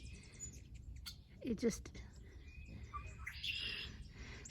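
A red-winged blackbird sings from a distant fence while hummingbirds buzz close by near bird feeders, thin chirps and whirring mixed with soft outdoor noise and a brief murmured voice.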